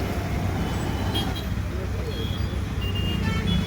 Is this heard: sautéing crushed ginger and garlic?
no